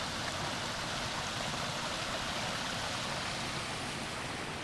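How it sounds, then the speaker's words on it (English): A waterfall and stream on the Rainy Lake Trail in North Cascades National Park, heard from a small bridge: a steady, close, full rushing roar of falling water with no talk. "I'm on a little bridge over this really beautiful waterfall"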